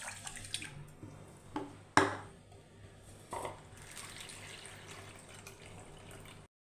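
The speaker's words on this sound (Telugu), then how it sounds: "వీటిని ఒకసారి శుభ్రంగా వాష్ చేసుకొని" Rice and moong dal being rinsed in water in a cooker, with soft splashing and sloshing, a couple of sharper splashes near the start, then quieter swirling that fades out.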